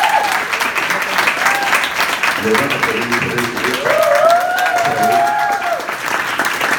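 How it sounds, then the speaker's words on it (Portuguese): Applause at a press conference at the Gramado film festival, steady clapping running throughout with people speaking over it. "Aplausos, por favor."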